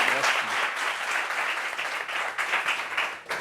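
An ovation from a television studio audience for a guest, thick continuous clapping that stays loud and near, swelling slightly in bursts, with no voices on top.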